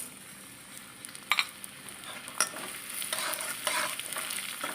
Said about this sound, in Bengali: মুগের ডালটা একটু ভাজা ভাজা করে নেব